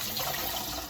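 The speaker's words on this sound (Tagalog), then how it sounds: "Dagdagan mo pa itong tubig mo." Water pours steadily into a cooking pot for a moment, a continuous close splashing rush with no voices over it.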